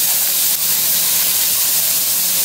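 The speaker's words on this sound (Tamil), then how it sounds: "இப்போ பார்த்தீங்கன்னா சின்ன வெங்காயம் போட்டு தாளிக்கிறா." Loud, steady sizzling hiss of shallots frying in hot oil for tempering, close up and continuous, with no talking.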